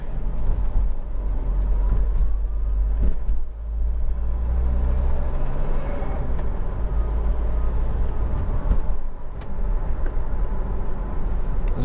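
Honda CR-V 2.2 i-CDTi station wagon driving along, heard from inside the cabin as a steady low engine and road rumble with tyre roar and occasional small bumps, no talking.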